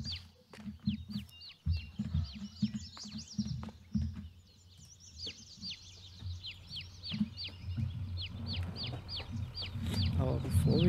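Chickens cluck and chatter in the coop in Farming Simulator 22, many short repeated calls close by over low farm rumble, with someone talking in German at times.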